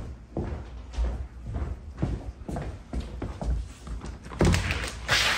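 A house's front door opens and closes with a series of dull thunks and knocks, close and fairly loud, repeating irregularly amid footsteps and handling noise.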